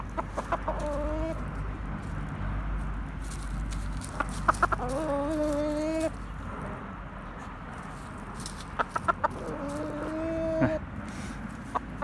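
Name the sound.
rooster crowing and clucking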